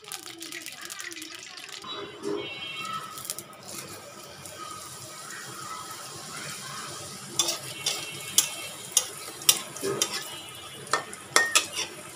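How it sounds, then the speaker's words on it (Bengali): Luchi flatbreads deep-frying one at a time in hot oil, puffing up, with a steady bubbling hiss under soft kitchen clatter and sharp utensil clicks growing more frequent toward the end. "এভাবে সব একটা একটা করে ভেজে নেবে। দেখো ফুলে উঠতেছে বন্ধুরা।"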